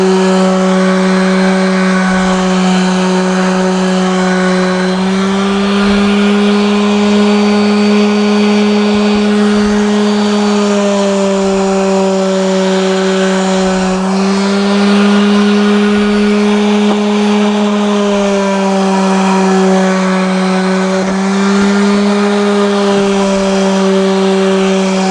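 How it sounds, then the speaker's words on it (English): A power sander runs steadily on a wood vanity cabinet during a light smoothing pass. The motor gives a loud, sustained whine with a strong tonal hum and slight variations in pitch as pressure shifts. "I'm just doing a light sanding to smooth out the roughness left by that bit."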